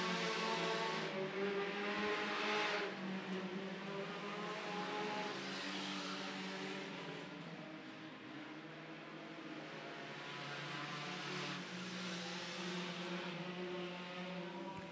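Sport compact race cars racing at El Paso County Raceway, with a continuous roar of engines held at full throttle that stays at a distant, steady level and swells slightly now and then.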